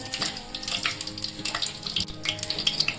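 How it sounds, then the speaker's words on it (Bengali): Whole cumin seeds crackle and sizzle in hot mustard oil in a kadai, a steady close frying hiss with bright popping spatters throughout, no talking. "কড়াতে দিলাম প্রথমে সর্ষের তেল, জিরে, গোটা জিরে দিলাম"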